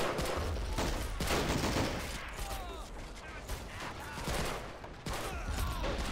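Mortar fire in the Rising Sun mod of a video game during a Pacific beach assault, with rapid booming blasts and crackling gunfire in a loud, chaotic battle mix, with some faint voices underneath.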